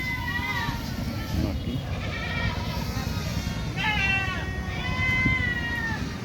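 Local deshi goats bleating at the crowded Baneshwar livestock market in Puthia, Rajshahi, several wavering cries rising above a constant murmur of voices and market bustle, with someone talking nearby.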